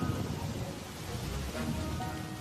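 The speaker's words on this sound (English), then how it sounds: "And to make matters worse, it started to rain." Steady rain falls as a continuous dense hiss with a low rumble underneath, constant and moderately loud, with no voices.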